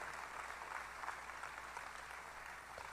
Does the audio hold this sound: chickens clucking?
no